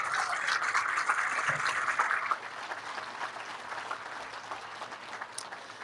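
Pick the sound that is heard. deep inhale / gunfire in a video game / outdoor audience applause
outdoor audience applause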